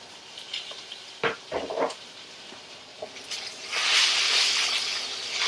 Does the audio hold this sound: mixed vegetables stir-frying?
yes